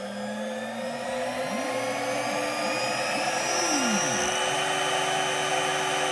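CNC spindle motor driven by an HY VFD spools up, a steady whine climbing in pitch with rising tones sweeping upward over a constant drone, loud and close with no talk.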